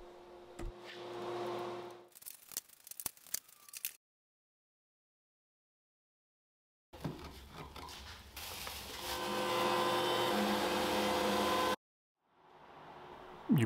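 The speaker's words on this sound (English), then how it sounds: "this Supermax drum sander makes quick work of it" A Supermax drum sander works over wood veneers in two bursts, first with scattered clattering, then after a silent gap a steady whirring, rasping drone that holds for several seconds before cutting off abruptly.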